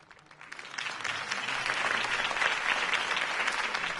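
Crowd applause in a video game swells quickly and holds steady, a dense wash of clapping hands with no voices over it, following a mayoral campaign speech.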